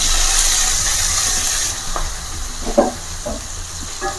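Chopped onions frying in a pan of hot oil with cumin and green chilli for a village-style potato and aubergine curry, giving a steady close sizzle and hiss with a few stirring scrapes and no talk.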